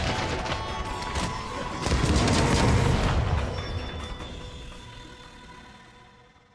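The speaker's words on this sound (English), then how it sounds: "the heavy bowgun is capable of inflicting massive damage with its high-powered artillery" Heavy bowgun artillery firing in Monster Hunter World, a dense booming blast with mechanical rattle that swells to a loud peak after two seconds, then fades away in a long decaying rumble.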